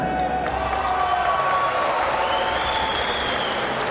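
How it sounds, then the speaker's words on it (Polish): Dense, steady applause from a fight-event crowd fills the hall without a break, loud and close, with a voice faintly audible beneath the clapping. "finalista turnieju, Ireneusz Ziółkowski, gorące brawa! Piękna walka, wielkie brawa"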